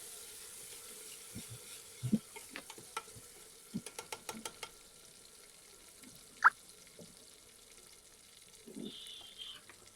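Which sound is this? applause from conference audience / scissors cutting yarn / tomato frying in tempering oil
tomato frying in tempering oil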